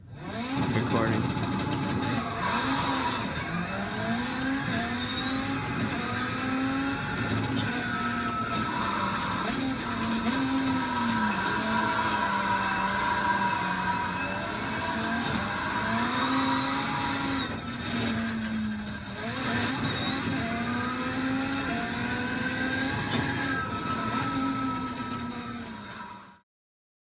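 Rallycross race car engines in iRacing drone steadily, with the revs rising and falling through gear changes over nearly half a minute. The engine noise stays loud and close, with occasional dips, until it cuts off abruptly.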